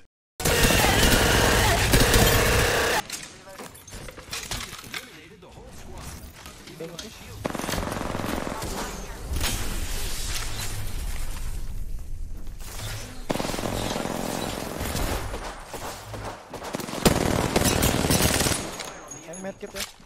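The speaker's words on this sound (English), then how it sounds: "Heavy machine gun." Heavy machine gun fire in the Apex Legends game, with sustained loud bursts of rapid automatic shots broken by short pauses, close and dense, with players talking over parts of it.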